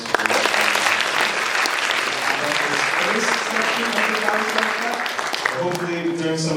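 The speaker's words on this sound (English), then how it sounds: "let's give another warm round of applause for the first section of the conversation" An audience at a design hackathon opening ceremony breaks into warm applause, loud dense clapping that fills the room and runs steadily before a voice starts speaking near the end.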